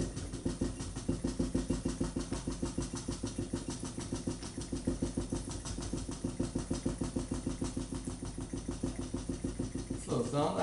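A homemade free piston Stirling engine runs with a steady rapid mechanical chatter, close and fairly loud throughout, speeding up once unloaded, with a person talking over it.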